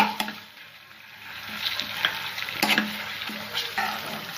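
Ginger garlic paste fries in oil with cooked onions for a veg biryani. A steady sizzle runs throughout, broken by stirring scrapes and clinks from a spoon against the pan.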